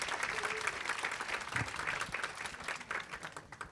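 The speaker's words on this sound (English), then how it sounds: "Please give them a round of applause" Scattered audience applause in a room after sponsors from Illinois and the Lenovo Foundation are thanked, a thin, steady patter of hands that fades slightly toward the end, with faint murmuring underneath.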